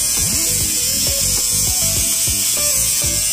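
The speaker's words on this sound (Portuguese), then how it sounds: "Agora já vou direto para a impressora." Printer running off tattoo stencil designs on white paper, giving a close, steady mechanical whir with repeated rhythmic chirping strokes of the print head moving back and forth.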